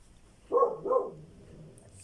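A pet dog barks twice in quick succession indoors, two short close barks alone in a quiet room.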